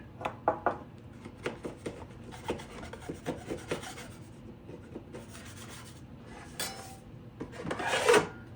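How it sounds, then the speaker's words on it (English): Sandpaper rubbing the sharp edges of a wooden Gerstner-style machinist chest with a tambour front, a run of close, rhythmic rasping strokes followed by a louder, longer scrape near the end, with no voices. "I'm going to sand all the sharp edges off."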